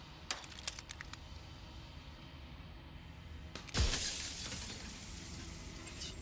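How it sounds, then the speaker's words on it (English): Glass shatters loudly in the video game Slay the Princess, a sudden crash that trails into scattered tinkling shards after a stretch of faint clicks and quiet ambience. "Jagged shards of broken glass."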